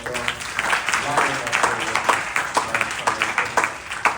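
Audience at a youth yajna gathering in a Hindu temple hall applauding, a moderate round of clapping with prominent nearby claps, some voices talking underneath.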